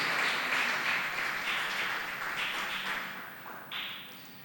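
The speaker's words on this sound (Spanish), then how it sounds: "Denle un aplauso si ya estamos entendiendo." A church congregation applauds during a sermon, a dense, even patter of clapping that holds steady and slowly thins toward the end.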